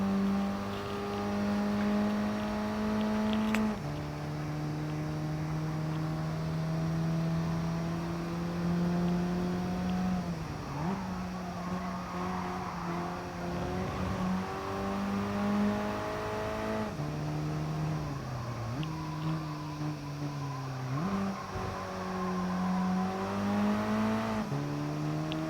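A race car engine in GT Sport hums and revs steadily for the whole stretch, its pitch climbing through the gears and dipping sharply at several points as it lifts off and brakes for corners.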